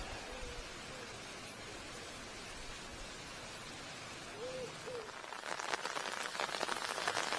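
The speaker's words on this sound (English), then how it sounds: "a little bit more than drizzle now" Rain a little heavier than drizzle falls by a carp fishing pool at a car park in Offord, a soft steady hiss that grows denser and louder near the end, with faint distant calls in the background.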